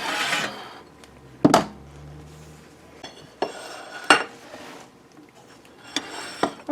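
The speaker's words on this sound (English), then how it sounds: "I want to cut one open for you to show you how it looks inside" A knife cutting open a hot sausage croissant made from Pillsbury crescent rolls on a plate, with a few sharp clinks and scrapes against the dish between quiet pauses.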